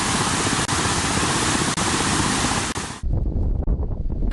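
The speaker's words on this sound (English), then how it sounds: "Hurulu Reservoir continues to discharge water." Water discharging from Hurulu Reservoir, a loud broad roar of rushing water filling the sound for three seconds, then cutting to a lower, rumbling flow with lighter splashes.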